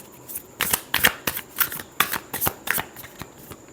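Tarot cards are shuffled by hand, a quick run of crisp riffling flutters and soft slaps, close and clear with no talking.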